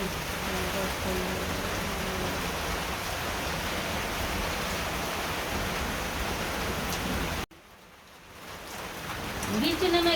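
Heavy rain over a rural Bangladeshi village, a loud, continuous hiss of downpour that cuts off abruptly near the end before swelling back up.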